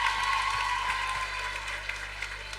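A high school assembly crowd claps for students and a teacher being introduced, a dense, even wash of applause from many hands, fairly loud and continuous for a couple of seconds.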